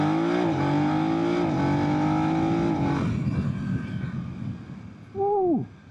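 A 2025 BMW F 900 R motorcycle accelerating through the gears, the engine note climbing in loud stepped pulls, then dropping to road and wind noise before a short final rev swoops down.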